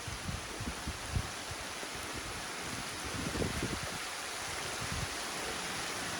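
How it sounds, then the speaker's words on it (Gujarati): Heavy downpour of unseasonal rain roars steadily as an even, dense wash of noise. Occasional low thuds come through under it, and no one speaks. "આજનો કંઈક આ નવો નજારો, ધોધમાર કઈ ધોધમાર વરસાદ"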